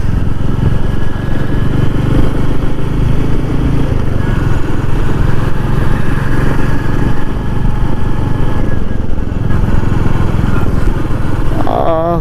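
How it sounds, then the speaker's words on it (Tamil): Exhaust note of a 2025 Royal Enfield Meteor 350 motorcycle, a loud, steady low thumping engine rumble that runs continuously throughout, close to the listener. "உங்களுக்கு அந்த எக்ஸாஸ்ட் நோட் வந்து கேட்குதா, டப் டப் டப் டப் அந்த மாதிரி ஒரு வெட்டிக்கிற மாதிரி சவுண்ட் இருக்குது"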